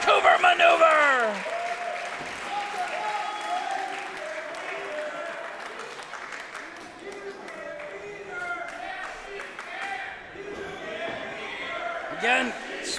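A split crowd at a SHIMMER women's wrestling championship match cheers and claps after a kickout, a loud burst of applause fading into sustained crowd noise, with a commentator talking over it.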